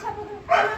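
A single short dog yip or bark rings out at close range, a brief whimpering bark from a dog waiting to be fed outdoors in Himachal.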